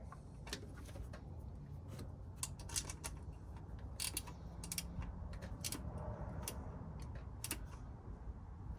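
A ratchet clicks as bolts on the fuel injectors of a Jeep Cherokee XJ are snugged down, rapid metallic ticks coming in short bursts over a low background hum, close and fairly quiet.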